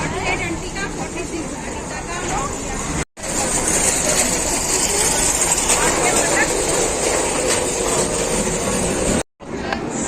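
A train pulls into a busy Indian station on the route to Amritsar, its steady rumble and rattling wagons filling the platform over crowd babble, with two brief dropouts in the sound.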